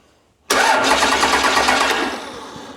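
Unhappy 12V Cummins diesel engine with a warped flywheel, first start in years: a loud abrupt crank that catches into a rough, clattering run, then eases slightly, heard close up.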